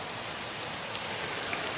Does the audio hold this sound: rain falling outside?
yes